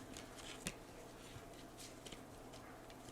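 Tarot cards are shuffled and drawn by hand, giving quiet, soft riffling and light papery taps with a sharper flick partway through, close and alone without talk.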